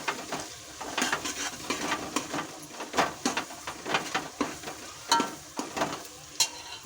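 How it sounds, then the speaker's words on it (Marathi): Ground green peas being stirred in a frying pan for pav bhaji, a quick run of scraping, clattering spoon strokes against the pan over a soft sizzle, close and fairly quiet. "त्याच्यात आपल्याला हे ग्रीन वाटाणे वाटलेले ना ते टाकून घेऊया, ते पण हलवून घेऊ"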